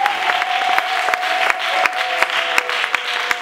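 An audience at a church gathering applauding for a mother, steady rapid clapping with sharper individual claps standing out, and a sustained tone running underneath.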